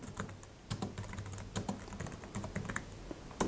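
Rapid typing of Python code on a computer keyboard, a close, uneven run of light key clicks with occasional heavier strokes, no voices.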